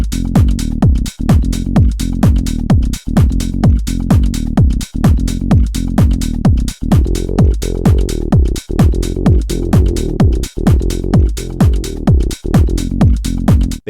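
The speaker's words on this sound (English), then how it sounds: "Bass jamming is a deep saw bass with a really high resonance, which sounds like this." Deep saw-wave synth bass with very high resonance playing a pulsing house pattern over a drum loop, each note sweeping down sharply, loud and continuous with no voices.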